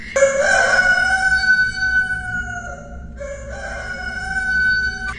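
A rooster crows loudly and close, one long strained call that wavers and trails off, then resumes with a rising second phrase over steady background hum.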